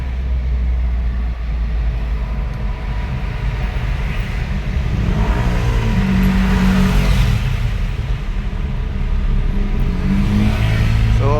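A car engine hums steadily while driving on a road in hot weather, a continuous loud interior drone with road noise and a slight rise in engine tone partway through, no talking.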